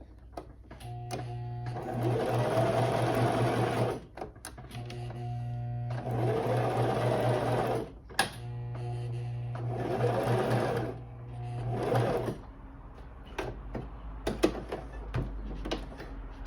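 A sewing machine runs in three long bursts of steady motorized stitching through a fabric that may be hard to sew, with short pauses between bursts and quieter handling noises after it stops.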